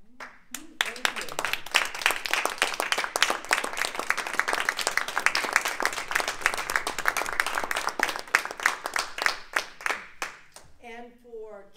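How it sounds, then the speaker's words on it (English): An audience at a Toastmasters meeting applauds steadily for about ten seconds, dense hand clapping in a room, before a voice begins speaking at the end. "Toastmasters are very into clapping."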